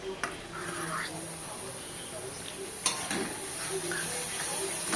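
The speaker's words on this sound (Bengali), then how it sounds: "তো ভালোভাবে এইভাবে নেড়ে দিয়েছি" Coconut and jaggery filling stirred in a pan for patishapta, a soft steady scraping and sizzling hiss with a few sharp clinks of the spoon against the pan.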